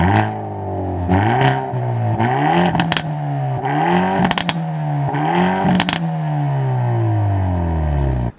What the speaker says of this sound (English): I'm going to insert a clip of the car revving now